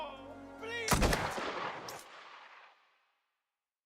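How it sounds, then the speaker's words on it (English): A single gunshot in the Mafia: The Old Country video game, a sharp loud crack after a moment of quiet background, with a long echoing tail that fades out to silence. "Wait, can I shoot this guy?"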